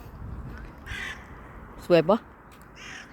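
A crow gives two quick caws, fairly close, amid soft outdoor ambience in Finland near sunset, with a person speaking briefly before and after.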